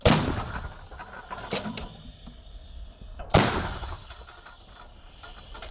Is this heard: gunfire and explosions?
yes